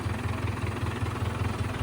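A tractor engine idles steadily with a rhythmic low throb, close and fairly loud, with no voices over it.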